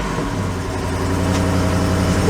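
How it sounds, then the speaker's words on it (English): A Jeep Wrangler's V8 engine idles with a steady, loud low rumble and even harmonic drone that holds continuously throughout, close and alone with no talk. "that V8 is so loud that you can't hear anything happening in here"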